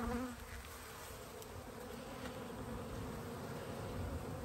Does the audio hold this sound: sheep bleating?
no